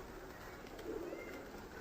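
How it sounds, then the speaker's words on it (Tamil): Pigeons coo softly while they feed, a faint low coo sitting in the middle of steady outdoor background noise at a roadside spot on the India–Nepal route. "இந்த புறாலாம் சுற்றி சுற்றி வந்து சாப்பிடும்."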